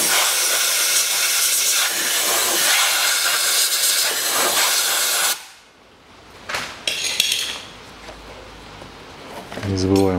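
Compressed air blasts loudly into the air filter housing of a 2015 Kia Rio 1.6 engine for about five seconds, then stops, followed by brief clanks, handling noises and a short further puff.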